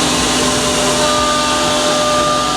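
A CNC trimmer cuts the perimeter of a thermoformed plastic part inside a safety enclosure, producing a loud, steady high-pitched whine and grinding roar that holds constant without pause.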